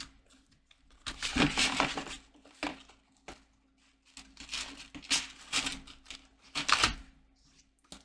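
Oracle card decks are shuffled in several quick riffling bursts, crisp and close, separated by short quiet pauses.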